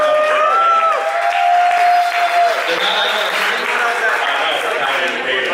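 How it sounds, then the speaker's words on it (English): A crowd at a live Friday football radio broadcast in Chanhassen gives a round of applause for the KFAN street team, with loud dense clapping and some cheering heard alongside a sustained tone and background noise. "The KFAN street team, ladies and gentlemen, a round of applause for them."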